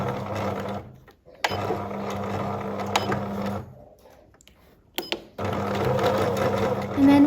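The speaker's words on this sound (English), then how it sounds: "I'm going to be sewing these" Sewing machine stitching a produce bag seam from curtain fabric scraps, steady rhythmic mechanical whir in two longer runs separated by a pause and a few clicks.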